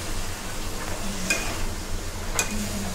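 Diced potatoes and rohu fish curry are stir-fried in a pan, with a soft background sizzle broken by two distinct spatula scrapes against the pan.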